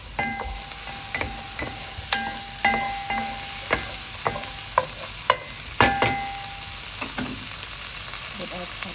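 Onions frying in a pan while being stirred, a steady sizzle broken by repeated scraping and clinking of the utensil against the pan.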